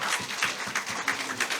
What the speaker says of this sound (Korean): 박수 힘차게.